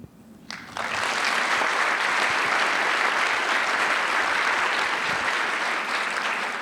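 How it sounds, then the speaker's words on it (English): Audience applause at a live comedy show, bursting in abruptly after a brief quiet moment and holding as a dense, loud, even wash of clapping to the end. "I wasn't expecting this much clapping"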